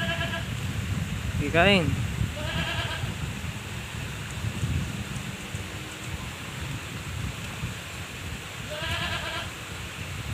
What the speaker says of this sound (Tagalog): Huwag tipirin sa pagkain ng ating kambing para tumaba.